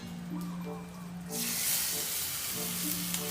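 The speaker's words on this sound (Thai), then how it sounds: "ได้เวลานะครับ เอาแซลมอนลงกระทะครับ" Salmon hits a hot pan with a sudden burst of loud sizzling that keeps crackling steadily, while a low hum runs underneath.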